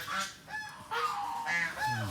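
Farm geese honk near at hand in a short burst of several loud, nasal calls in quick succession, overlapping slightly, with no talking.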